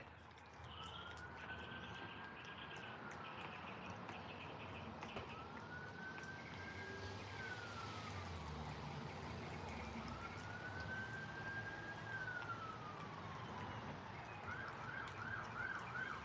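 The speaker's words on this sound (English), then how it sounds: "Sorry about the siren." A distant wailing siren rises and falls in slow sweeps, faint in the background, switching to a rapid yelp near the end.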